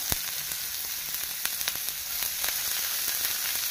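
Finely chopped onion fries in hot oil with a loud, continuous sizzle, dotted with small crackles and pops close by.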